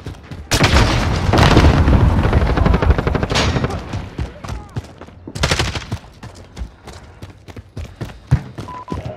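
Gunfire in Call of Duty: Modern Warfare team deathmatch, with loud close bursts of automatic fire and sharp single shots in clustered volleys, fading to scattered distant pops with brief radio chatter underneath.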